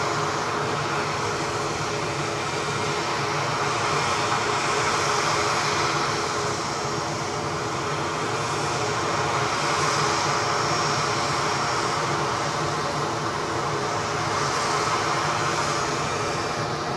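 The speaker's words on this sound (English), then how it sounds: "the next arrival, which is, as flagged by Rab H, a Ryanair 737-800 inbound from Stansted" A Ryanair Boeing 737-800 arriving at Edinburgh Airport from Stansted produces a loud, sustained jet engine roar that holds steady throughout, rich and broadband with gentle swells.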